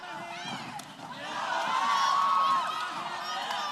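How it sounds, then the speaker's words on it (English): A live crowd at a combat sports fight between Nevan Driehuis and Ian Hibbs roars steadily, swelling louder mid-clip in a dense wash of shouting and cheering, with a commentator's voice faintly mixed in. "And you can really hear the crowd getting into this fight right now."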